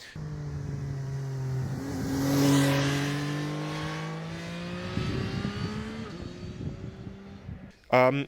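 A CFMOTO 675 SRR sport motorcycle revs up and pulls through several quick-shifter upshifts, its pitch climbing and dropping in steps, ending with a sharp burst of popping.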